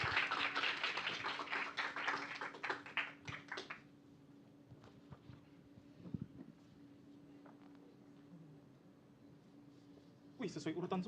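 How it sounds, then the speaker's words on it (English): Audience applause for new members at a Toastmasters club meeting, a dense burst of clapping for about four seconds that fades into room murmur and talk, with another short burst of clapping near the end. "Please give a round of applause for all of new members."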